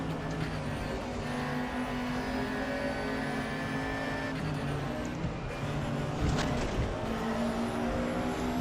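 A race car engine in the RaceRoom racing game holds a high, strained whine near redline, a steady droning tone that shifts slightly in pitch, loud and continuous from start to finish.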